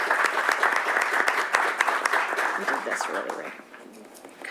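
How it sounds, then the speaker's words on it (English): An audience at a school board meeting gives a round of applause, brisk clapping from many hands that thins and fades toward the end, with some talk mixed in. "We'd all like to give them a big round of applause"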